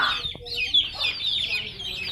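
Farm chickens cluck and chatter steadily at close range, with a brief low rumble partway through.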